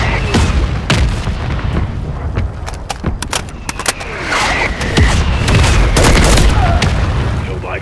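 Heavy booming explosions and bursts of gunfire in Call of Duty: Modern Warfare III, repeated sharp blasts over a constant loud battle din, with voices talking at times underneath.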